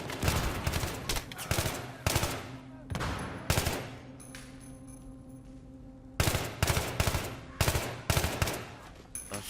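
Bursts of automatic gunfire in the video game Battlefield 3 ring out loud and close, several rapid volleys, then a lull of a couple of seconds before the firing resumes in quick repeated bursts.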